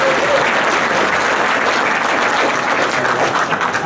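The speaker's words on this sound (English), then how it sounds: "Thank you very much for the applause." Steady, dense applause from an indoor audience at an offshore radio panel at Radioday 2014, loud and continuous with no breaks, a broad wash of many hands clapping together.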